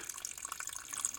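Water trickles and gurgles over rocks in Matka Canyon, a continuous close bubbling hiss with small irregular splashes and no voices.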